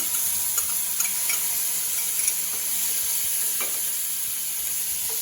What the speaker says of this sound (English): So I actually gonna saute this as well.